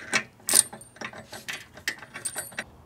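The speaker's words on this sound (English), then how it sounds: "Tighten down the bolts." Wrench ratcheting in short bursts as bolts are tightened on a cargo carrier hitch, a series of close clicky mechanical strokes with brief pauses between them.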